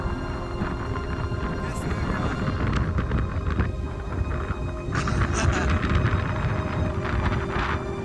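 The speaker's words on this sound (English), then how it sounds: "It's way too windy, man." Strong wind at a campsite in Kenya roars and buffets the microphone without letup, and a voice briefly speaks over the gusts.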